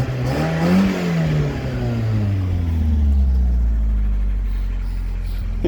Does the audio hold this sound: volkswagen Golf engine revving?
yes